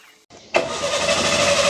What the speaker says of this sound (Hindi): गाड़ी कर ली हमने स्टार्ट